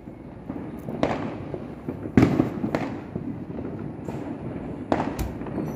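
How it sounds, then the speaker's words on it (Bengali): Fireworks burst outside an open window at midnight on New Year, with several sharp bangs and thuds at irregular intervals, some near and some distant, over a low rumbling background. "বাইরে পুরো আতশবাজি হচ্ছে"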